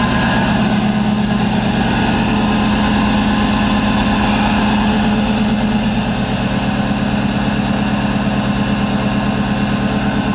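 An old truck's 100% original engine idling after a 10-degree cold start, a loud, close, steady low chugging rumble with even rhythmic pulses and no voices.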